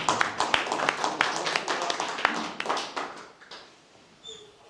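An indoor lecture audience applauds a speaker being introduced, a dense burst of clapping from many hands that thins and fades out over a few seconds.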